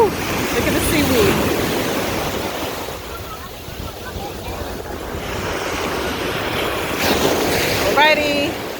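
Big ocean surf at Far Rockaway Beach, a steady broadband wash of breaking waves rolling on continuously with wind buffeting the microphone, while a person's voice shouts and chatters briefly over the roar.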